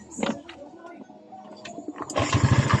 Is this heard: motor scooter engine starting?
yes